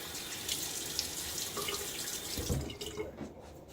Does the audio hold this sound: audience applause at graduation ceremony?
no